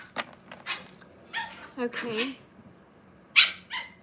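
Puppies barking and yipping in short scattered bursts with some whimpering, close by, mixed with a person speaking.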